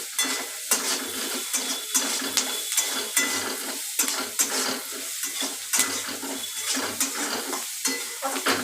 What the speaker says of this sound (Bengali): এই যে ভাজা হচ্ছে এগুলো